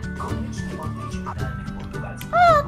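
A small pet dog whimpering and yipping at home, soft whines and a higher rising yelp near the end, mixed in with close, ongoing talking.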